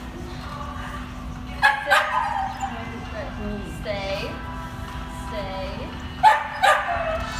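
A puppy named Luna and other dogs at a puppy training class give a few short, sharp barks and yips at intervals, with a person talking and giving commands throughout.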